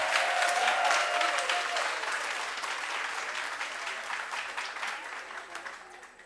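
Steady crowd applause fills a Women's Month event hall after a speaker finishes, a dense even patter of many hands that gradually fades and thins toward the end.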